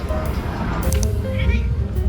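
A street cat in Guayaquil, Ecuador gives short meows amid loud outdoor background noise, with people talking nearby.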